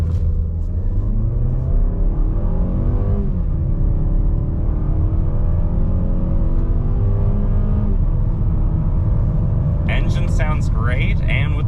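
A 2023 Mazda CX-5 S Select AWD with a turbo engine launches hard from a brake-rev start in a 0-60 run, a loud close engine roar climbing steadily in pitch, with a voice briefly audible near the end.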